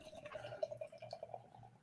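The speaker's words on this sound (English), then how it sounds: "And the pour" Beer poured into a glass: a quiet, steady liquid trickle with small dripping, gurgling bursts running for about two seconds, fairly close and alone.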